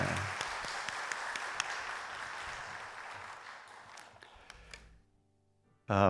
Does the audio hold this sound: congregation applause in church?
yes